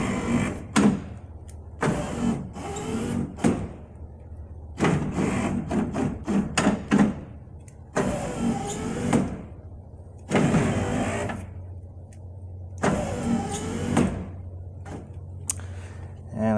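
Car power window motor, recently repaired, driving the glass upward in repeated loud whirring bursts of a second or two, separated by brief pauses and ending with a final longer run.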